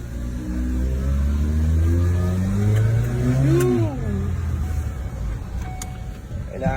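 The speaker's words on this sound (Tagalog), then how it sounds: "Tayo ay lalarga na para mag-test drive." A car setting off on a test drive, its engine humming steadily and rising in pitch as it pulls away under a continuous low rumble, with people talking over it.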